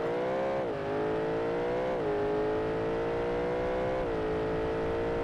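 Twin-turbo V8 all-wheel-drive Hirochi SBR4 in BeamNG.drive accelerating hard, loud and continuous engine tone climbing through gears with brief dips at each shift, no talking.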